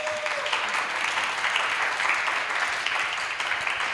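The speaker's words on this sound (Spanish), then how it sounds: "Quiero pedir un aplauso para ella." Audience applause for an invited guest at an art talk, a steady wash of clapping from a crowd lasting several seconds at fairly close range, with no talking.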